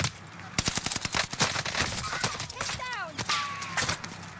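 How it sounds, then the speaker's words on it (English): Rapid close gunfire in an online shooter game, with dense bursts of shots aimed at the player, mixed with other game effects and voices talking over the action. "They're shooting at me now."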